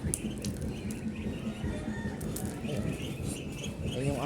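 Barakot chickens and roosters cluck and flap their wings close by in a yard, scattered fluttering bursts and clucks over a busy rustling background, with a brief crowing-like call near the end.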